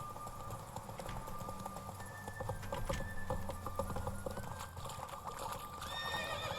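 Roach, the horse in The Witcher 3, gallops with a steady, rapid run of hoof clip-clops, and a whinny cuts in partway through over a low rumbling game background.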